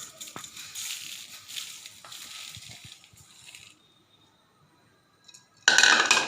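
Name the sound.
puffed rice snack being mixed in a bowl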